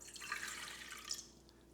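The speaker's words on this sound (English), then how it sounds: "let's put the water in the mixer" Water streams into a stand mixer bowl while marshmallows are being made, a soft, trickling splash close by and fairly quiet, tapering off after about a second.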